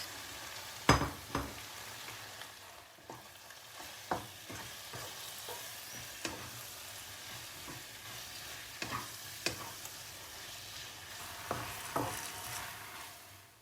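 Eggs, Bunapi mushrooms and spring onions stir-fried in a pan, a constant soft sizzle punctuated by a series of spaced clacks and scrapes of the spatula, no speech.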